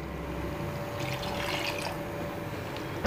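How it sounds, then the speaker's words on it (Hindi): Leftover cooking water from chana dal trickles and pours steadily into a pan of simmering dhaba-style dal, a soft continuous liquid wash with a brief louder splash at the very end. "ये दाल में ही बचा हुआ पानी है, ये मैंने ऐड किया है"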